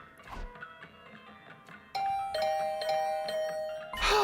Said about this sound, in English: I was brought back to the land of the living by the unrelenting ringing of my doorbell.